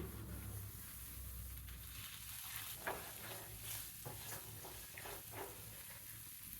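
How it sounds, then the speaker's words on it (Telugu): Chicken in a pan with red chilli sauce, stirred over a low flame, giving a steady soft sizzle with scattered scraping stir strokes and small pops throughout. "దీన్ని ఒకసారి బాగా తిప్పుకొని లో ఫ్లేమ్ మీదే చేసుకుందాం."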